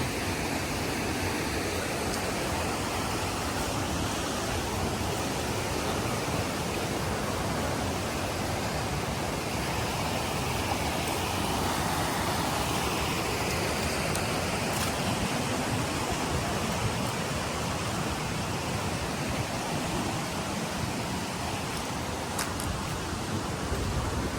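Stream water rushes steadily at the head of a weir in a rural natural setting, a dense, unbroken wash of flowing water that stays loud and even throughout.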